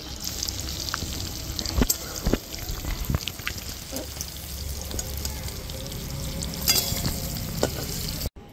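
Pointed gourd fries in hot oil in a pan, giving a steady close sizzle broken by scraping stirs and clinks of a utensil, heard on its own with no talking.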